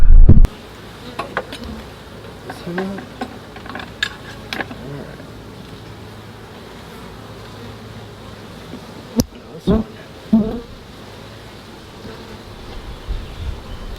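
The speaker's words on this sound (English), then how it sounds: "I see a lot of good bees." Honey bees buzz around an open urban beehive during an inspection, making a low, steady hum broken by occasional sharp knocks and handling clicks, with a faint voice now and then.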